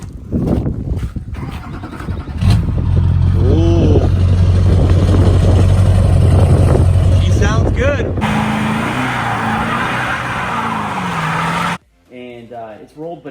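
An LB7 Duramax diesel idles in a rolled-over pickup, a loud, steady, close engine rumble that keeps running throughout, with people talking and a cut to a different shot near the end.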